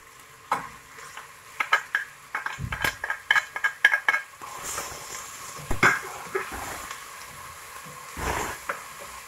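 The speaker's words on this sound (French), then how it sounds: "On mélange un petit peu pour éviter que ça n'accroche." Bell peppers frying in olive oil as a utensil stirs the pan, with a run of close, rhythmic scraping clinks over a soft sizzle, followed by looser, sparser stirring knocks.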